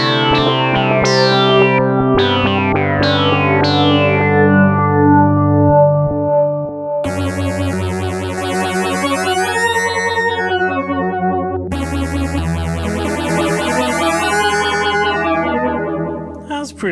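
Yamaha Reface CS synthesizer playing oscillator sync tones: a run of plucked, decaying notes, then two long sweeping sync notes with shifting harmonic sweeps, loud and distorted with chorus and echo effects, no talking.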